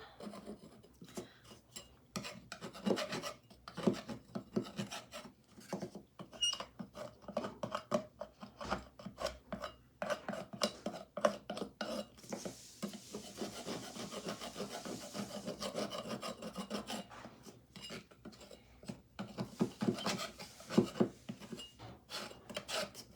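Paint scraper chipping old paint off a wooden birdhouse, a steady run of dry, rasping scrapes and scratchy strokes close by, with brief pauses between bursts and no talking.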